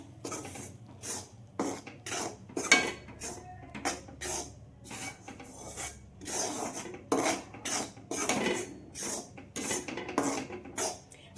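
Ragi flour is dry-roasted in a pan for laddu, stirred with a spoon in repeated rhythmic scraping strokes, about one per half-second, close and fairly quiet with no talking.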